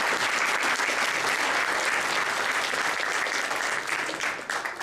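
Audience at a university Hijab Day event applauds steadily for about five seconds, a dense, loud wash of clapping with no talk over it that thins slightly toward the end.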